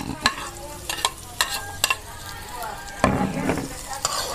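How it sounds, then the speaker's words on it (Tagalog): Onion and garlic sauté in a pan while being cooked for a chicken dish, with a steady sizzle broken by sharp scraping and clinking strokes of stirring at irregular intervals, close by and with no talking. "Isunod natin ang sibuyas."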